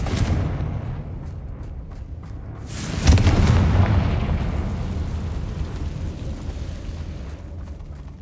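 A Confringo explosive spell goes off in Hogwarts Legacy: one sharp, loud blast partway through, followed by a long rumbling decay over ongoing low background noise.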